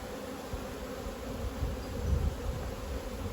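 Honeybees hum at an open hive during spring management, a soft, continuous, low buzz that swells slightly midway.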